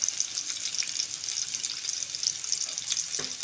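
Vegetables sizzle steadily in hot oil for Tirunelveli sodhi kuzhambu, a constant bright frying crackle with faint stirring clicks near the end.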